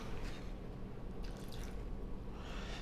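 Water poured into a bulgogi marinade of soy sauce, a steady soft trickle with faint splashy dribbles, close and continuous throughout, no talking.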